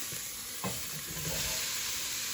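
Cabbage tossed into a hot pan with sautéing onions for cabbage soup, a steady close sizzle with a few stirring scrapes and no talking.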